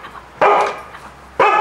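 Dogs bark twice, close and loud, with a pause of about a second between the sharp barks and a quiet background otherwise.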